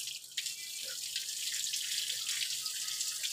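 Water runs steadily from a tap during a bath, a continuous hiss of flowing and splashing water heard alone at close range, with a small knock near the start.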